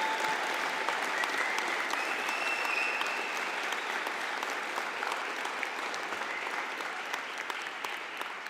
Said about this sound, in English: I invite a collective round of applause for the graduates of the Access to Apprenticeship and Continuous Professional Development.